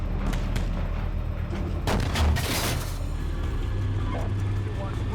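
A tank cannon firing a sabot round in a video game: a single loud booming blast near the middle, over a continuous low vehicle rumble.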